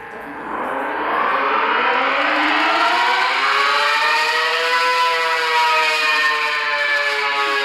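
An ACA Banshee 115 civil defense siren winds up from a low growl into a loud, rising wail that holds steady and close, sounding alone.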